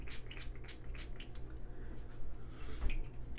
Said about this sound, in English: I go in and spray my face with the rose water just to give it a finishing glow.